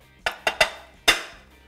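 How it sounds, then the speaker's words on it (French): An egg tapped against a small dish of water before it is broken in for a microwave poached egg: three quick, bright clinks, then a fourth louder one after a short pause, each ringing briefly. "on casse l'œuf dans l'eau."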